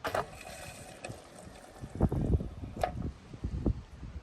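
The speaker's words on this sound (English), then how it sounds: "Now we're gonna push down on the" A drinking post waterer has its paddle pushed down, releasing water in short gushing splashes with bumps and handling noise, close to the microphone, irregular and without speech.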